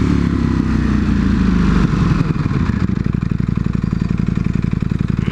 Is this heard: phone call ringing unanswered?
no